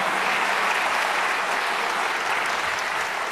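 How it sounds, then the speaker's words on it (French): Audience at a Mirabelle Queen pageant gives a loud, sustained burst of dense applause for the evening's musicians, steady clapping filling the whole stretch with no talk. "Encore un tonnerre d'applaudissements pour ceux qui nous accompagnent en musique ce soir."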